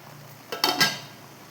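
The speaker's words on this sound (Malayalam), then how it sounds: "ഒന്ന് ഇളക്കി വെക്കട്ടെ" Guava halwa stirred in a pan: two or three quick, close scrapes and clinks of a spoon against the pan in one short burst, then quiet.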